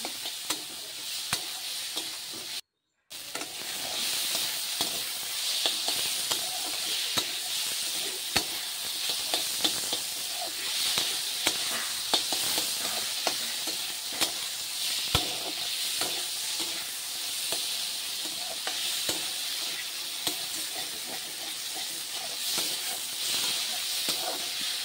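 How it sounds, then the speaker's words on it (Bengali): Sweet pumpkin fries with black cumin (kalonji) in a pan, giving a continuous close, moderately loud sizzle and hiss with occasional stirring scrapes. There is one brief dropout near the start. "মিষ্টি লাউ ভাজা করছি কালো জিরা দিয়ে"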